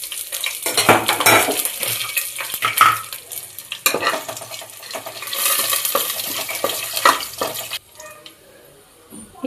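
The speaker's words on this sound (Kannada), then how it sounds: "ಈಗ ಒಣಮೆಣಸಿನ್ಕಾಯಿ ಹಾಕ್ಕೊತಾ ಇದ್ದೀನಿ." Dry red chillies are dropped into a pan and stirred while frying, with metallic clinks and scraping of a spoon against the pan over a sizzle, busy and close before quieting near the end.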